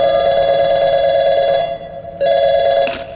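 A telephone rings in the video game Portal 2 with a loud, steady electronic trill that cuts off briefly and then resumes, ending in a short burst of noise.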